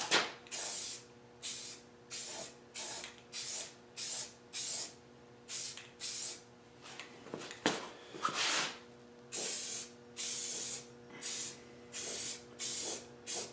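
Sage green camo spray paint goes onto a mini bike in about a dozen short aerosol bursts, each a sharp close hiss separated by brief pauses in a steady rhythm.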